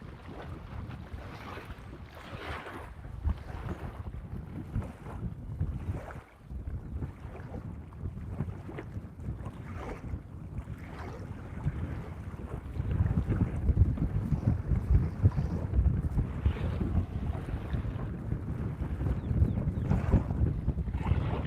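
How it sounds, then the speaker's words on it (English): Wind gusting over a lake around a fishing boat, a steady rumbling buffet against the microphone with faint water lapping, building stronger in the second half, with no talking. "Wind needs to change direction. Or calm down."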